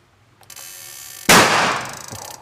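Homemade spirtus (methylated spirit) firecracker with a double chamber and igniter, fuel charged with ten sprays in a bottle, fires as a single sudden loud boom after brief clicks, then a decaying roar.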